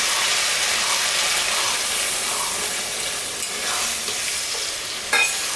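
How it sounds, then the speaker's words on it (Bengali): A spice paste of chili, ginger, cumin and garlic is stirred in a hot pan for a rohu and jackfruit dish. There is a loud, continuous sizzle with scraping strokes and a sharp clack near the end. "মশলাটা দিয়ে একটু নাড়াচাড়া করে অল্প একটু জল দিয়ে আমি ঢাকা দিয়ে দেব।"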